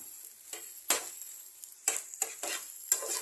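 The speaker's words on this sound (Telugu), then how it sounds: "ఒక 1 మినిట్ ఫ్రై చేసుకుందాం." Egg masala curry being stirred in a pan: a soft, faint sizzle under a series of sharp spatula scrapes and taps against the metal, coming in uneven bursts close by.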